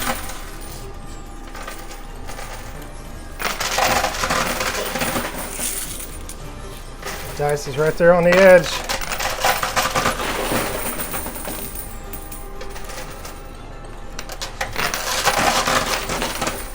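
Coins clatter and drop inside a high limit coin pusher machine, with bursts of metallic jingling at intervals amid arcade hum, and someone speaks briefly.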